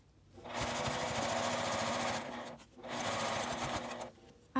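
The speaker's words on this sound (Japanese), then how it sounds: "角度を変えて端ミシンをかけていきます。" Sewing machine running steady edge-stitching along a fabric cutlery case, two sustained bursts of close, loud whirring with a brief pause between as the fabric is turned.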